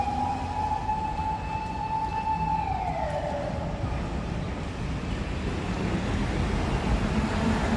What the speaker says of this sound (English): some fire engines being loud here.